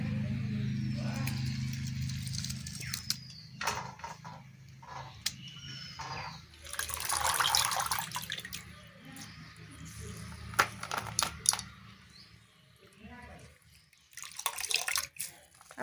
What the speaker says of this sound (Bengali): এবারে আলুটা ভালো করে ধুয়ে নেব।